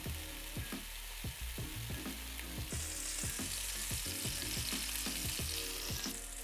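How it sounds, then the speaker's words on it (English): A black-pepper-crusted fillet steak searing in vegetable oil in a hot pan, giving a loud, steady sizzle with crackling spits, plus repeated clacks and scrapes of utensils against the pan, close and without talk. "you can hear the heat has penetrated and it started to sizzle"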